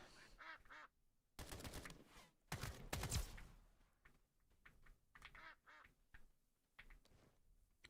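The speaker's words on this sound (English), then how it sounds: "I hear them quacking away," Ducks quack in bursts throughout a round of the video game Escape From Duckov, mixed with loud gunfire bursts in the middle and scattered game noises.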